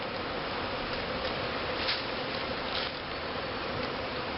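Honey bees buzzing steadily at a hive in spring, a dense, continuous drone of many insects close by with no talking.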